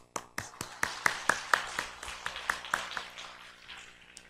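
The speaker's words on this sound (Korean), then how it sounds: "방송실 우리 수고하는데 박수 한번." A small group at a Sunday morning church worship service gives a short burst of sparse, distinct hand claps, about a dozen in quick succession. The claps are quiet and fade out toward the end.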